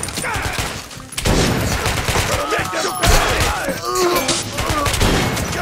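Shotgun blasts and other gunfire ring out in the video game Metro: Last Light, loud booming shots over game effects, with a voice talking over parts of the action.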